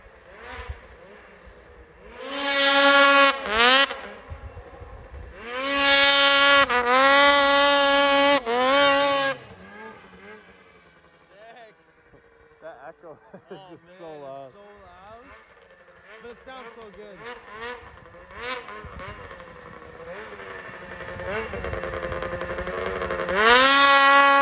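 Snowmobile with a 600RS engine popping wheelies: loud, high-pitched two-stroke revving in several surging bursts, rising and falling sharply, then fading to a distant drone before swelling again, outdoors.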